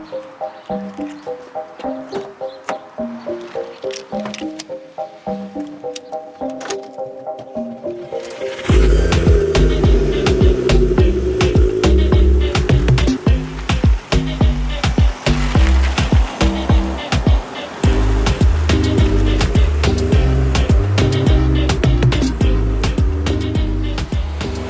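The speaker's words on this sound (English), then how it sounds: "get this thing warmed up, and go make some lovely five-cylinder noises" A Ford Focus ST MK2 five-cylinder engine idles with a low, even burble at first, then fires up louder around the middle and keeps a rough, throbbing warm-up idle close by.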